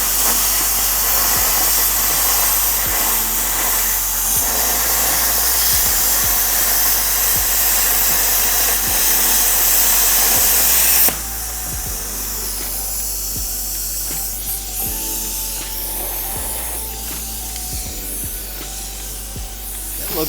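A YESWELDER Cut-55DS plasma cutter slices through metal with a loud, continuous rushing hiss. Partway through, the hiss drops abruptly to a softer airflow, with faint clicks and ticks scattered throughout.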